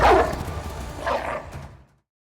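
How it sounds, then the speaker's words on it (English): Hounds barking in a fantasy dungeon-crawl board game scenario: a short burst of dog barks and yips, close and fairly loud, fading out within two seconds with no talk over them. "The hounds spring forward with a bark"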